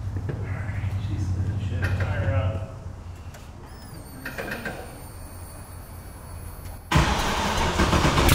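An LS-swapped Mazda Miata in a shop: a low engine rumble runs, drops off, then a loud start catches near the end and settles into a strong idle, with mechanical clunks and whirs between.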